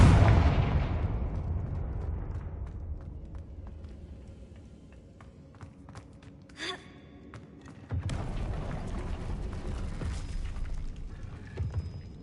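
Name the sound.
explosion from the Confringo blasting spell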